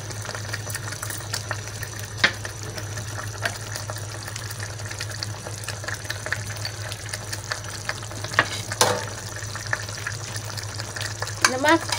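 Ground spices cooking in pizza sauce in a pan, a continuous close bubbling sizzle with scattered pops and occasional spoon scrapes, steady throughout.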